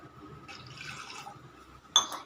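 Water pours briefly in a soft, splashing stream into a pot, followed by a bright clink of glass against the vessel.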